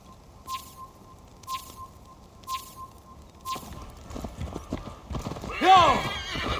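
A horse in Assassin's Creed Valhalla clops along in a steady, evenly spaced rhythm before a louder, rising whinny breaks out near the end over a busier patch of hoofbeats.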